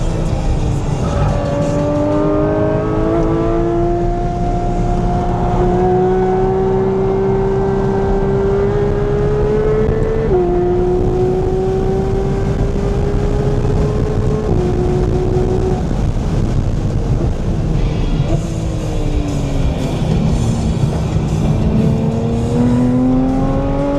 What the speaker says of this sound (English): Cars chasing us down right now.